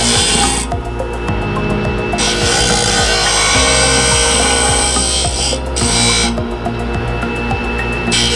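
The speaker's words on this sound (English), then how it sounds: "Some of these I need to go ahead and go in and just barely touch the face of that tooth just to clean it up." A grinder sharpens the teeth of a sawmill band blade in loud, close bursts, its high whining grind starting and stopping twice, with rattling metal and ratchet-like clicks as the blade is worked tooth by tooth.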